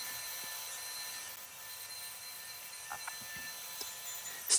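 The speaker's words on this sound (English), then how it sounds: "I use a bandsaw on a lot of my projects, and should be a nice quick job" A bandsaw cuts a piece of wood with a steady, thin, hissing whine, close and fairly quiet, with faint bumps and a small clatter near the end.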